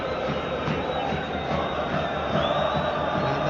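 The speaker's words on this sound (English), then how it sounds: "the crowd are reacting to that now" A football crowd in a video game match roars with a continuous, broad wash of cheering and chanting, loud and unbroken, with no clear commentary on top.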